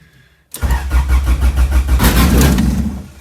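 A car engine cranks and catches after a brief quiet moment, then runs loudly with a rough, pulsing idle close by.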